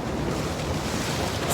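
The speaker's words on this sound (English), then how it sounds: "Lots of interesting splashes nearby." Waves splash near the shore in late August, a steady broadband wash of surf with wind rumble, continuous and fairly close, no voices.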